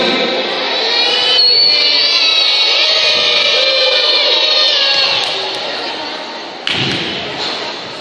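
Crowd of children cheering and shouting loudly at a Christmas gift-giving event in San Miguel de Sarchí, a sustained noisy roar with a few thumps near the end.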